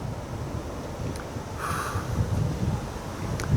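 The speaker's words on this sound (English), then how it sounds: "wind's starting to pick up coming out of the north" Wind picking up outdoors from the north on a cold night, a steady broad rush buffeting the microphone throughout, growing slightly stronger toward the end, with no talking.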